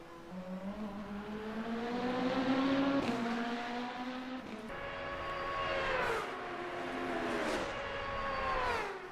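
Racing cars in a video game tear around the Monza Curva Grande circuit in GT3 machinery that includes an Aston Martin. Engines whine upward through the gears in repeated rising sweeps with sharp shifts, passing close and loud, and no one speaks.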